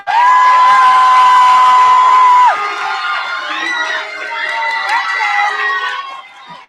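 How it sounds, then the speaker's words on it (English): A crowd at an eighth grade promotion ceremony cheers for the teachers with whoops and children's shouts. A steady high-pitched tone rings over the start, then lively, loud crowd noise carries on until it fades. "Let's give them a round of applause."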